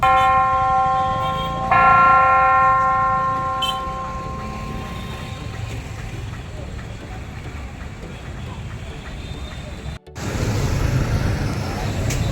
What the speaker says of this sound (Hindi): और फिर घंटाघर की घंटी बज गई।